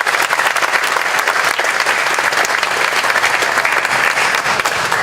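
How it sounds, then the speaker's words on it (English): Sustained, dense applause from a festival crowd for Governor Tony Evers at the Hmong Wausau Festival, steady and loud throughout without breaks. "Let's all give him another round of applause."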